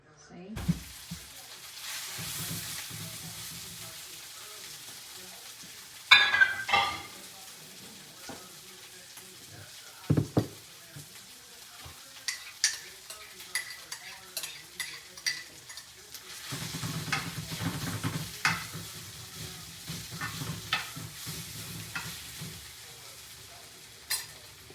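Fajitas fry on a clay comal pan with a soft, uneven sizzle, broken by clinks and scrapes of stirring, getting louder toward the end, with some quiet talk in between.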